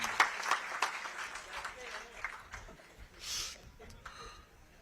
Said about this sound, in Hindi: भूतपूर्व मुख्यमंत्री आदरणीय वसुंधरा राजे जी, ताली बजाओ ना यार जोर से